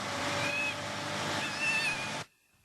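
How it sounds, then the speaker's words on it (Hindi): A cat meowing near a truck, with a thin high cry over a rough steady rumble that cuts off abruptly, leaving near silence. "तुम्हारी बिल्ली मिल गई।"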